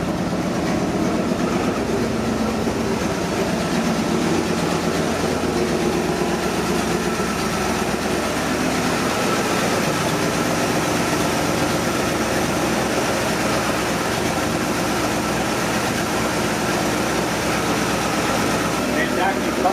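A 64-year-old car engine with a rebuilt carburetor runs steadily in a loud, continuous rumble with a rough, rattling texture and no pauses, the idle holding even throughout.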